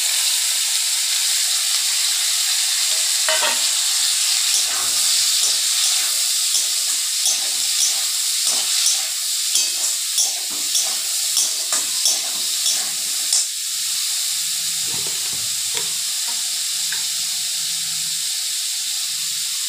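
Loud, steady hissing sizzle of bitter gourd, potato, onion and chili frying in a pan, with intermittent clatter and scraping from stirring, easing off toward the end.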